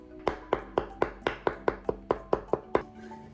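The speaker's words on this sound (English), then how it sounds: "Two cloves garlic, smash it, and then finely chop them" A knife finely chops smashed garlic cloves on a board, eleven crisp, evenly spaced strikes about a quarter-second apart, close and clear with no voices.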